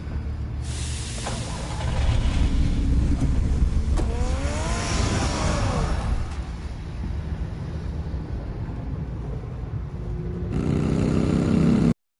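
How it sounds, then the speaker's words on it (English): The Batmobile's engine in a Batman video game roars and revs loudly, rising in pitch through a whooshing burst of acceleration, dropping to a steady rumble, then surging again near the end. "Get the car ready, Alfred."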